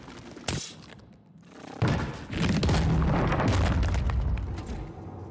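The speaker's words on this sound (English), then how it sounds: "Step on the pressure plate and fire a grenade" A grenade launched and bursting in the dark sci-fi game Scorn: a sharp thump, a brief lull, then a heavy sustained rumbling blast that rolls on and slowly fades, loud and without voices.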